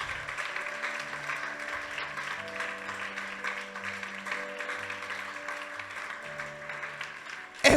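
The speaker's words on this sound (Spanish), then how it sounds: "Si vas a aplaudir al Señor, alábalo, porque Él es digno de ser alabado." A church congregation applauds steadily, soft and far off, with a continuous wash of clapping and a faint sustained organ or keyboard tone underneath.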